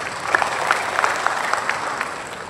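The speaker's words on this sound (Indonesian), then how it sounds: "Mari kita tepuk tangan." Steady applause from an audience at a regency official's welcome address in Tana Toraja, many hands clapping in a continuous moderate wash with a few sharper individual claps standing out near the front.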